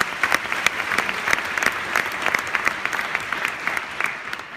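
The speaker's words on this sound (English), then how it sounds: "So please give them a round of applause." An audience at a New York Film Festival event applauds steadily throughout, many hands clapping in a dense, continuous patter with sharper individual claps standing out.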